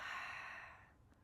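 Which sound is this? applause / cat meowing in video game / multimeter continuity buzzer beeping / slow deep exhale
slow deep exhale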